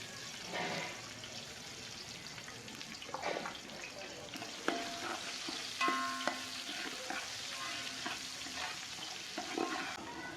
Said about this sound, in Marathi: आता कांदा टाकून घ्यायचा आहे तेला दोन कांदे घेतले फोडणीसाठी